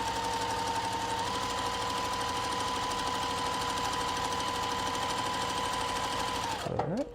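A sewing machine stitches quilt fabric in a steady rapid hum close up, its motor winding down abruptly just before the end.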